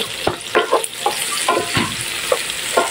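A whole head of garlic sautéing in a pan, with crisp bursts of sizzling and scraping stirs in uneven, close strokes against a constant frying hiss.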